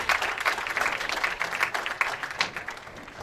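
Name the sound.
audience applause at a bowling tournament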